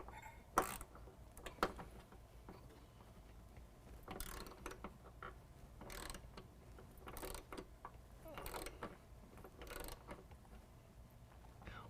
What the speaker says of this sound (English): we're going to take a 13 millimeter and we're just going to start turning on that. And what that does is that compresses that riv nut